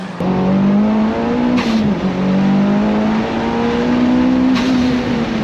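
Mitsubishi Evo street car engine revving, a loud, close, continuous drone that rises and dips in pitch with throttle changes, with brief high-pitched blips near the start and end and no talking.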